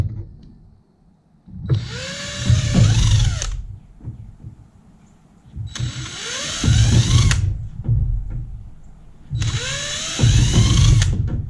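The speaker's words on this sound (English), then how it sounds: "gonna pre-drill them first" A power drill pre-drilling screw holes in a Sun Dolphin Aruba 10 kayak whirs up and winds down in three separate bursts, each a few seconds long, close by with brief pauses between.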